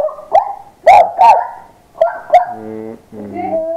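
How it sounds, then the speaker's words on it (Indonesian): A dog makes a few short barks and yelps, then drawn-out whining howls, fairly close and loud. "Suara guguk?"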